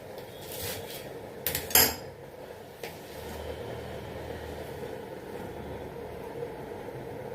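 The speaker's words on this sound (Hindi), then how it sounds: "सारे साग को धीरे धीरे करके काटते रहेंगे" Bathua and mustard greens chopped by knife for saag, heard as a few sharp clinks and knocks against a board or utensil, clustered early, then a faint steady background with an occasional tap.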